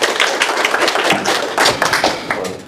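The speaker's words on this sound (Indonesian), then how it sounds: "Tepuk tangan dulu buat semuanya" Audience clapping at a first aid responder training session in a clinic hall, a dense patter of hand claps with some sharper nearby taps and thuds, fairly loud and steady throughout with no talk.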